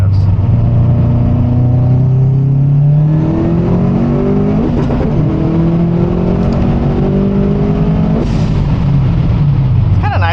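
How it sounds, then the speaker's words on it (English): 2007 Subaru WRX STI accelerating hard through gears with flat-foot shifting, loud close engine rising in pitch, brief shift breaks between pulls, with some talking in the cabin. "It's kind of nice having car flat foot shifting again."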